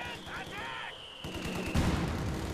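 Rapid gunfire in the strategy game Company of Heroes 2 aimed at a mortar team, a faint rattle of bursts under a steady tone and other battlefield noise, with speech over it.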